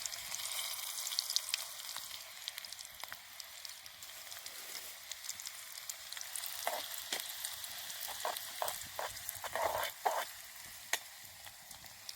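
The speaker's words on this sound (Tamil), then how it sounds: "நல்லா பொரியிட்ட வெங்காயமும் மிளகாவும் நல்லா பொரியும் பொரிஞ்சிக்கிட்டே இருக்கட்டும்" Chopped onions and chillies fry in bubbling oil inside a clay pot, a continuous soft sizzle with scattered pops and crackles growing busier toward the end, no voices.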